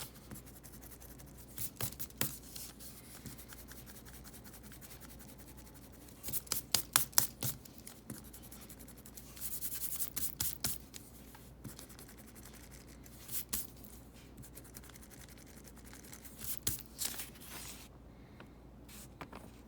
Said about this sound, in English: now I wanted to quickly test out the eraser performance